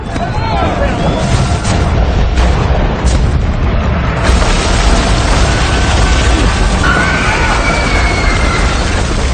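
Cannon fire and explosions in a siege battle from an Ottoman historical drama about Sultan Mehmed: loud, repeated booms and crashes over a dense battle din, with shouting voices mixed in.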